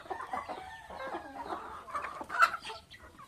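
A young hen that has not yet started laying clucks softly and intermittently nearby, with a few sharper notes near the end against a quiet farmyard background.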